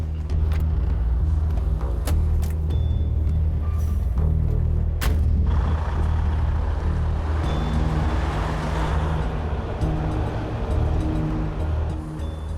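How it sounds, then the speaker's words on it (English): A modern heavy wrecker tow truck, HR 116, out on a drive, its diesel engine droning loud and steady underneath broad road and wind noise, with a few sharp knocks and clunks early on. "Jamie gets ready to take the last modern wrecker in his fleet, HR 116, for a drive"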